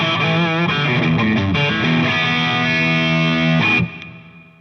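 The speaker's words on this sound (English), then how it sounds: "now what you're hearing is the voicing of the EL34s in the 252, which is set not flat" Electric guitar through a Fryette 252 amp with EL34 tubes, voiced not flat: loud, distorted chords and riffing ring continuously, then stop and fade near the end.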